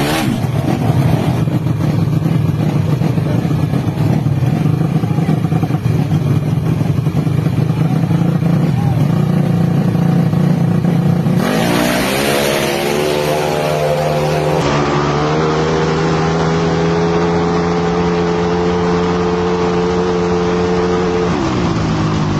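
Yamaha Aerox and Mio open-class motorcycles at a Tagum drag race, engines droning loud and steady, then a sharp revving shift as one machine pulls away with a rising, gear-stepped whine near the end.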